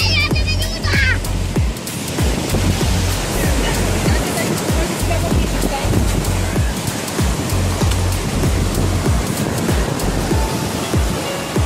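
Storm waves breaking on a beach at Mahmutlar, Turkey: a continuous loud roar of surf with repeated surges and crashes, with voices faintly in the background.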